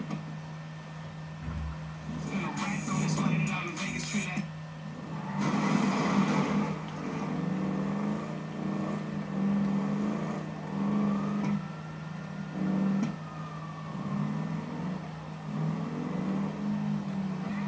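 A car engine in a video game hums and revs steadily, with louder bursts of acceleration, continuous and close, rising and falling in pitch over a long stretch without talk.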